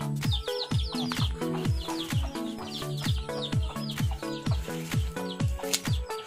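Loud, rhythmic clucking from several chickens close by, with rapid repeated calls that overlap continuously.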